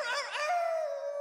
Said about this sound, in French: Ça doit être un chien errant.